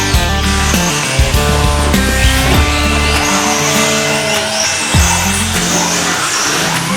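RC short course trucks race on an indoor track, their small electric motors whining loudly and shifting in pitch as they pass close by, with bursts of tire squeal and skidding and no talking.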